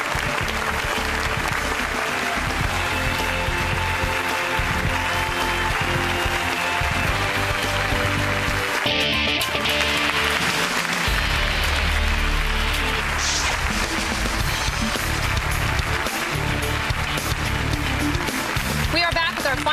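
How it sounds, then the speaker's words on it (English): Studio audience on the 2002 game show Friend or Foe claps and cheers steadily throughout, a dense sustained roar with whoops, music and a host's voice running beneath it. "Let's all clap."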